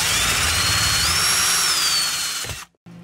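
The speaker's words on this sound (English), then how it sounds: "Render them useless by drilling holes through the plastic rims." A power drill bores holes through the plastic wheel rims of a recalled MTD snowblower, a loud steady high whine lasting nearly three seconds before stopping abruptly, followed by a brief near-silence.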